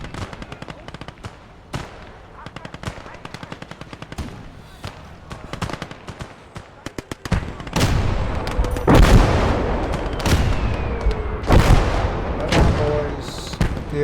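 Artillery and gunfire in a World War II video game battle for France: scattered sharp shots at first, then dense, loud, booming blasts and rumbling bursts that keep coming.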